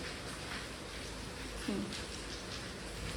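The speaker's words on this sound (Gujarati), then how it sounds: "વરસાદ ધીમો પડી ગયો છે" Light rain falls steadily outdoors, a soft, even patter heard faintly with a brief low coo-like sound partway through.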